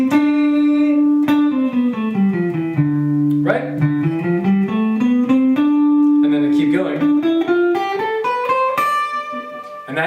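A single instrument steps through a scale run from D up to D and back, notes held and sliding in pitch, with someone speaking briefly over the playing.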